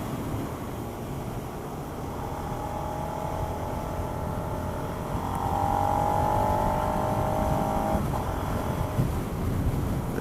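A Suzuki SV650 650 twin motorcycle engine drones steadily while riding, then grows a bit louder and higher midway as the revs climb, with a constant rumbling hum throughout.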